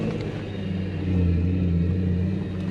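A 1UZ V8-powered Toyota Surf (4Runner) drives through a mud hole, its engine a loud, steady low rumble that swells slightly midway, with no talking.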